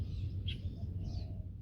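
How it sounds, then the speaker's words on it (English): Small birds chirp in short, faint bursts over a steady low rumble of water and wind, heard from a kayak drifting on an outgoing tide in a Tainan national park wetland. "There are just the sounds of so many birds here."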